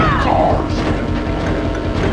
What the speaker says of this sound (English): Yes, the missile, I believe.